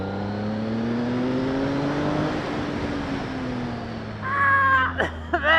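A Triumph Speed Triple R motorcycle engine pulls steadily under acceleration in a high gear, a sustained rising drone at close range, with a brief sharper rev and wind noise near the end.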